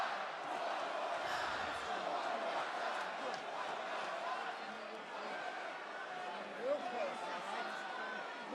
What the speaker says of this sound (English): This crowd is ruthless.